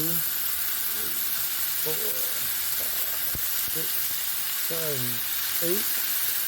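Venison smash burgers sizzle on a hot griddle, a steady broadband frying hiss running throughout while a man counts aloud over it.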